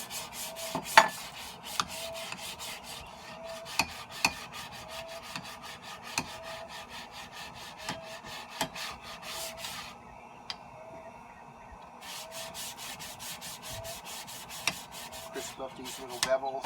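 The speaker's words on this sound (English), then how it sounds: "I'm going to go ahead and light sand off my hammer marks." Light hand sanding of hammer marks on an old Norlund axe head, a steady run of quick scraping strokes with sharper taps mixed in, close and fairly quiet, pausing briefly partway through before resuming.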